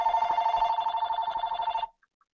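A landline telephone rings during a live talk show, a steady electronic trill that pulses continuously for about two seconds and then stops abruptly, with a couple of faint clicks afterward.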